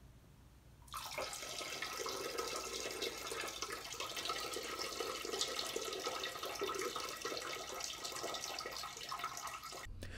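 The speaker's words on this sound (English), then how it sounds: "let's hear a little excerpt from when I took a piss a couple minutes ago" A continuous stream of urine splashes into toilet water, starting abruptly after a short quiet moment and running steadily and close for about nine seconds before stopping.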